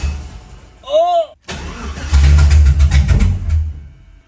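Low-compression LS junkyard engine in a 1969 GTO cranking and then catching, a loud rough rumbling start with uneven revving, after a brief tonal squeal and a voice.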